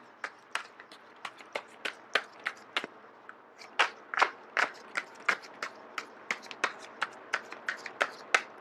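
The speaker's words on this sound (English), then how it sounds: "I am going to shuffle until the first card drops out." Crisp, rapid riffle-and-snap bursts of tarot cards being shuffled, repeating in an irregular rhythm close up, with no talking.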